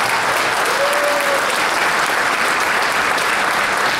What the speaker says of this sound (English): let's give another round of applause to the new council of the 13th district, Paul Gjonaj.